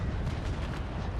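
A broadside of heavy cannon fires at a ship's masts in a Naval Action naval battle, a dense, continuous low rumble of overlapping booms with no clear gaps between shots.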